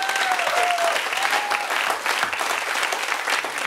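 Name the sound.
audience applause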